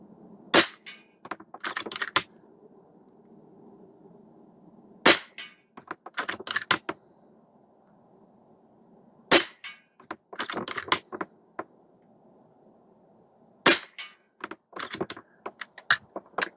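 Four sharp, loud cracks of an Air Venturi Avenge-X .22 caliber budget airgun ring out several seconds apart outdoors, each followed by a cluster of quick mechanical clicks from cycling the action.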